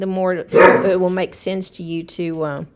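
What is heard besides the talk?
dog barking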